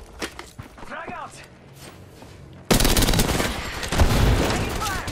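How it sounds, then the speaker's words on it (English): Video game gunfire, starting with scattered shots under a talking voice, then a loud burst of rapid automatic fire that continues in dense volleys to the end. "Some flunk is shooting at me."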